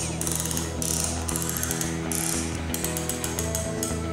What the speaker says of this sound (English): Pull up slack and begin tensioning.